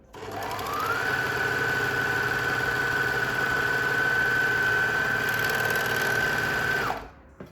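An overlock serger stitches a flatlock test seam in a steady, continuous mechanical whir. The machine runs up to speed quickly, holds one constant hum for about six seconds, then stops abruptly, with no talking.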